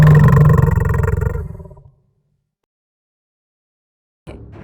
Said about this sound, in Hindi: तभी शेर सिंह की दहाड़ सुनाई देती है